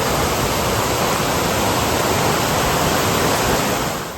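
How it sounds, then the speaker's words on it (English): Fall of the Hoof waterfall on a Northern Ireland trail, a steady, dense roar of falling water close by, loud and unbroken throughout, easing slightly at the very end. "There's another big waterfall here, the Fall of the Hoof."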